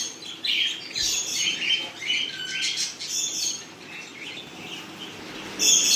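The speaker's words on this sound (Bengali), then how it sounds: "এখানে বদ্রি আছে, এখানেও বদ্রি আছে।" Budgerigars chirp and twitter in an aviary kept for fostering birds, a busy scatter of high, quick calls from several birds, fairly close, with no talk.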